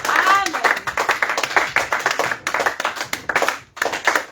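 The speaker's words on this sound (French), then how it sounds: "Est-ce qu'on peut acclamer le Seigneur?" A church congregation gathered with a visiting pastor claps in a quick, steady rhythm, with voices mixed into the loud clapping and short pauses between runs.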